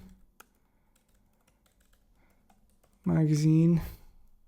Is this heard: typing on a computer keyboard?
yes